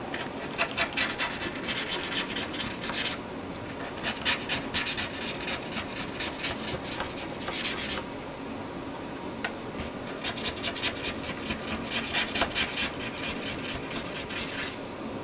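Scraping out the keyboard of a 13-inch MacBook Pro Retina with a cheap tool, giving steady rasping, rubbing strokes in repeated bursts with brief pauses, close and moderately loud, no talking.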